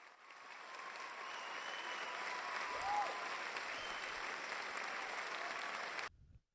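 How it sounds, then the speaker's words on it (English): A small audience gives a sustained round of applause with steady, even clapping that carries at moderate volume for about six seconds, then stops abruptly. "Come on, low clap"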